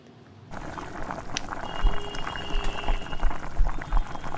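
A pot of bhola fish curry with garlic and potatoes comes to the boil, and after a brief quiet moment a continuous bubbling and gurgling simmer sets in, close and moderately loud, with no talking.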